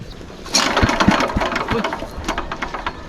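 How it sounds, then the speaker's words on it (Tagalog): A small boat engine mounted on a farm tractor chugs steadily after starting up, a rough mechanical rumble running throughout at close range. "Makina namin sa bangka, nilipat mo namin dito sa ano, ang traktor"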